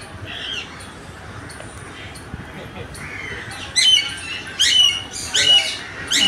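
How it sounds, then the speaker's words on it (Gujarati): Parrots of several kinds at Kankaria zoo give harsh squawks and chirps, with louder bursts of calls in the second half over a steady crowd murmur. "આ પણ પોપટ છે."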